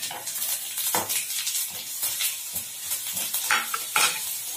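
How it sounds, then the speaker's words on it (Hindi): Yellow mustard seeds, asafoetida and crushed garlic frying in hot oil for a Bihari masoor dal chutney tempering, a dense crackling sizzle with spoon stirring and scraping strokes against the pan, close and steady. "आ ई अथी अछि लहसुन कनी पीसल अछि, इहो भूजै छियै कनी दऽ कऽ।"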